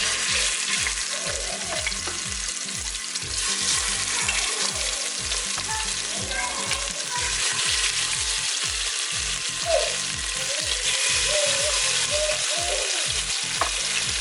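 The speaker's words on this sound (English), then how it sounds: "place the meat in it to sear it on all sides" Beef sears in batches in a hot Instant Pot with a steady loud sizzle and crackle, stirred and turned with intermittent soft scraping knocks, close up and without talk.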